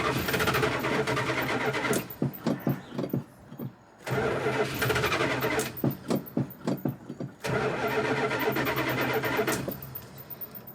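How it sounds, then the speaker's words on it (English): The engine of a 1979 Dodge Ramcharger, a vintage 4x4, cranks repeatedly in loud, grinding bursts separated by brief pauses, sputtering as it tries to catch but never settling into a steady run. "It's already starting to sound like it's wanting to start better."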